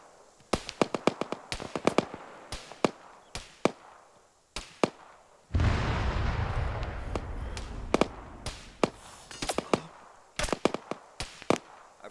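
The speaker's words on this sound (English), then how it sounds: "They're throwing either grenades or 40 mic at us." Grenade or 40mm launcher blasts in a military video game: a loud, roaring explosion lasting a few seconds, set among many sharp, close gunshot-like cracks before and after.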